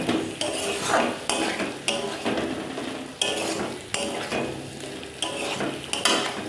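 Paneer cubes are stirred into a sizzling spice masala in a pan, with repeated close scraping strokes of a spoon about once a second over a constant frying hiss.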